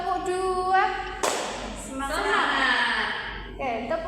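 A classroom group claps out a short call-and-response pattern, with a couple of sharp hand claps breaking through voices speaking and chanting close by.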